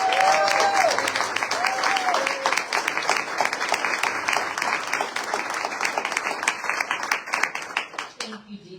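Audience applause rings out at a press conference in Marietta for the City Council President, steady and full for about eight seconds before tapering off as a voice begins speaking.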